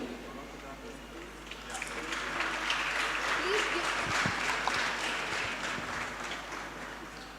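Sustained audience applause at a university commencement ceremony for the 2020 graduating batch, a dense crowd clapping steadily throughout, swelling slightly in the middle, with a voice faintly audible underneath.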